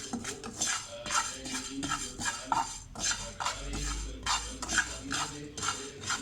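Fenugreek seeds dry-roast in a pan, stirred briskly with a metal spoon that clinks and scrapes against the pan in quick, uneven bursts. There is no voice.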